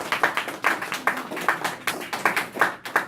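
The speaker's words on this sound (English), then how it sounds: "Big round of applause for Kevelyn." A small audience claps for a speaker giving a speech, a sparse round of applause made of distinct individual claps in an uneven rhythm, fairly close and moderately loud.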